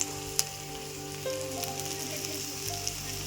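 A spice paste of Kashmiri chilli powder, turmeric and coriander powder fries in oil in a pan and is stirred, a soft, close sizzle broken by a few sharp clicks of the utensil against the pan.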